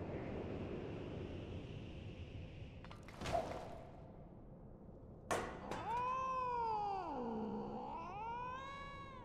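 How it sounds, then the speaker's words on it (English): A cat meows angrily in Final Fantasy XIV, a long wavering yowl rising and falling after two sharp swooshing hits over a steady game ambience, loud and close. "Angry kitty."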